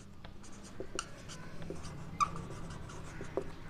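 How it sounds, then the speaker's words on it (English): Pen or chalk writing out an SI unit during a physics lecture on electric dipole moment, a faint scratchy stroking repeated in short bursts, close and quiet, with no talk over it. "Now we write SI unit."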